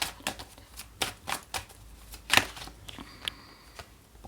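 Tarot cards riffle and slap together in quick shuffling bursts, close and fairly soft, with crisp flicks and a brief louder riffle partway through.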